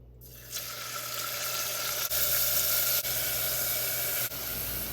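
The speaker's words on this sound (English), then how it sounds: "I'm going to rinse this off and then we'll fry it" Tap water runs steadily into a sink while chicken livers soaked in milk are rinsed, a continuous close rushing splash with a few brief shifts in flow and no voices.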